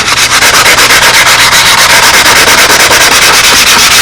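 A sanding block scrubs a glue seam on a carbon part for a Windy Spitfire Jett 60 model plane, making loud, close, rapid back-and-forth strokes in an even rhythm throughout.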